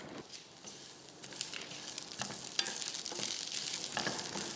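Niger seeds, dry coconut pieces, garlic cloves and green chilli roast together in a pan, giving a soft, close crackle with light stirring and scraping that grows slightly louder toward the end.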